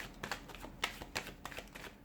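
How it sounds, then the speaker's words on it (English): A deck of playing cards is shuffled in quick, close riffling bursts with short pauses between them. "give the cards a shuffle"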